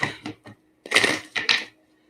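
A deck of tarot cards is shuffled in several quick bursts, with crisp riffling and snapping close up and brief pauses between bursts.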